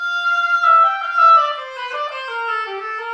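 An oboe plays a short phrase from an all-state concert band technical etude, starting with a loud accented note and then easing softer over a smooth falling line, solo and close with no talking.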